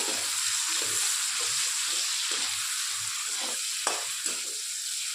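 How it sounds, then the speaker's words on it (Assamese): Garlic fries in oil over a low gas flame, a soft continuous sizzle with rhythmic stirring scrapes and a couple of sharper pan taps. "এইখিনি মই কম ষ্টিমত ভাজি ল'ম। গেছৰ ষ্টিমটো কম কৰি থোৱা আছে"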